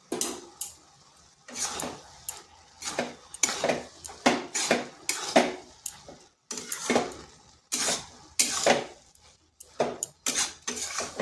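A metal spoon scrapes and clatters around a pan as cabbage and egg are stirred, sharp bursts of clinking and scraping in an irregular rhythm with brief quiet gaps between strokes.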